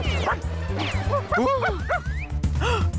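A cartoon dog from a Garfield episode lets out a run of short barks and yips, clear and close, over steady background music.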